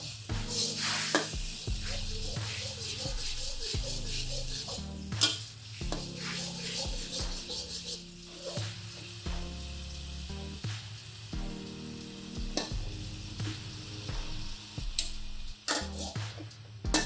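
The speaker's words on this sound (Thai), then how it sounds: "คนส่วนผสมทั้งหมดให้เข้ากันจนได้ที่" Chinese kale stir-fried in oyster sauce with water in a pan, with soft sizzling under repeated scraping and clinking of a utensil against the pan over about seventeen seconds, fairly quiet and close, no speech.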